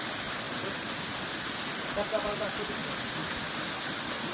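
A mountain stream rushes down a deep, steep valley, making a constant hiss and splash of falling water heard close and fairly loud, with a voice speaking over it.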